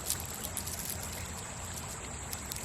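Running water rinsing fresh rosemary sprigs, a steady close trickle and splash with a faint high tone, no talking.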